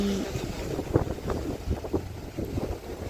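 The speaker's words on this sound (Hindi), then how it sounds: "और साथ में इस लहरों का शोर" Ocean waves break on a Mumbai shore in a steady, rushing roar, with wind buffeting the microphone and no voices.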